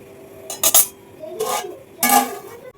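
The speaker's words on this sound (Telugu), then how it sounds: "మూత పెట్టేద్దాం" Metal lid set onto a cooking pot of chicken biryani, giving three short clanking bursts of metal on metal in close succession, near and fairly loud, with no talking.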